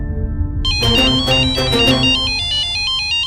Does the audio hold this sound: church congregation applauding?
no